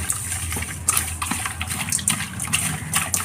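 Water gushing and splashing steadily as it is drained off cleaned squid, loud and close, with no voices.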